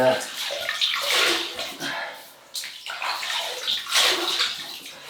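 Water splashes and sloshes as a face is wetted by hand before a wet shave with a Laurel razor, close and fairly loud in bursts with a short pause midway.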